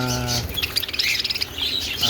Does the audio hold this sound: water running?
no